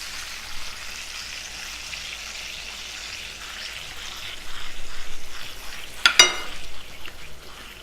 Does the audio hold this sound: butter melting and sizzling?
yes